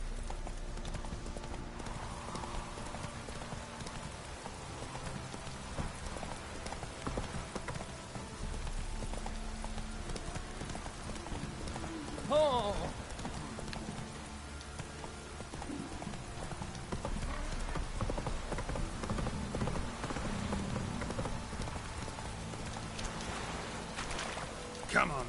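Roach the horse gallops in The Witcher 3, steady rhythmic hoofbeats thudding under a faint game ambience, with a brief whinny partway through and a voice speaking now and then.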